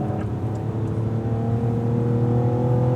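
A Cadillac V race car accelerating hard onto the back straight of a track, steady loud engine drone with a clear rising tone, heard close from the cockpit.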